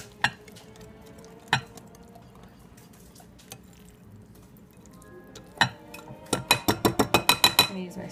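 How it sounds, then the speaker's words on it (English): Dry ingredients are whisked into a paleo cake batter in a bowl: a few scattered metallic clinks at first, then a quick run of about ten rhythmic whisk strikes against the bowl, close and crisp, with no clear talk. "Add a little, we'll whisk it up."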